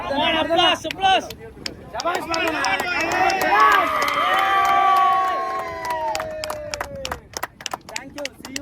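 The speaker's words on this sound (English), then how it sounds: "Come on, applause." Crowd at a sports league grand final trophy ceremony cheering and shouting, with rising and falling whoops and a few claps amid the noise of the gathering.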